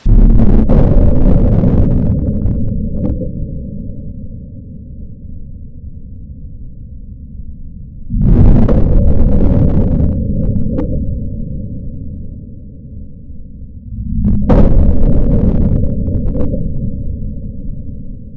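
A Taurus G3c pistol chambered in .40 S&W fires three loud shots at close range with long pauses between them, each blast trailing off in a long, booming echo.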